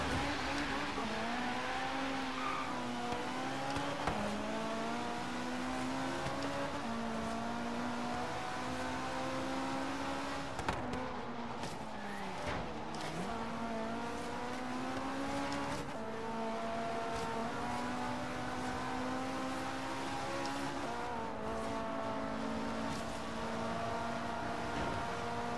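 Car engines rev continuously in the Forza Horizon 3 racing game, a McLaren among them, with a sustained whine that rises and dips through gear changes and background game sound.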